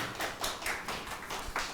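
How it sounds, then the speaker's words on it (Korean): A small audience claps in welcome for a guitarist and photographer at a talk, with a handful of distinct, fairly close claps in an uneven rhythm, each with a bright smack, over a short span. "박수로 환영해 주십시오."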